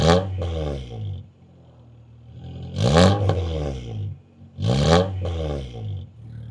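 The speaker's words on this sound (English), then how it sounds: "Listen to the sound of this exhaust." Exhaust of a Honda CR-Z fitted with a K24 engine: three loud, close rev blips, each rising sharply and then falling back to a low, rumbling idle.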